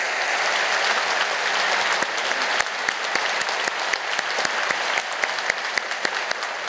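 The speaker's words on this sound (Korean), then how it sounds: "먼저 하나님 앞에 영광의 박수를 돌리시고요." A church congregation at a prayer meeting applauds, a continuous wash of many hands clapping at moderate volume, with some sharper individual claps standing out in an irregular pattern as the applause carries on.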